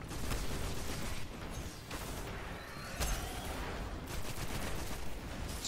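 Gunfire in the shooter Destiny, sustained rapid bursts of weapon fire with sharp cracks and a louder blast midway, dense and continuous at moderate distance with no voices.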